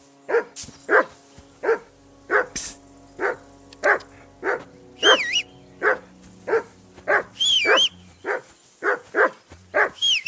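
A dog barks repeatedly in Kingdom Come: Deliverance II, about a dozen loud, close barks in a steady rhythm over layered game ambience, with a few brief high whines between them.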